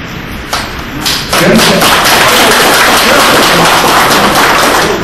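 Lecture hall audience applause, a dense roar of clapping swelling in after a few scattered thuds and continuing loud and steady to the end.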